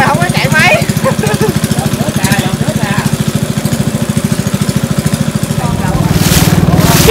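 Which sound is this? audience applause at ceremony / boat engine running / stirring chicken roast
boat engine running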